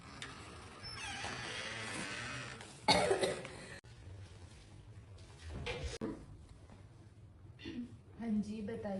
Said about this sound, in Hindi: इसको 3 हफ्तों से खांसी हो रही है